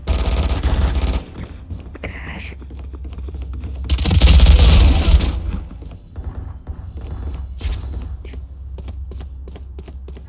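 Spectre gun in Valorant fires in quick bursts of rapid shots, a loud sustained volley in the middle and scattered shorter bursts and thuds around it, with game ambience between.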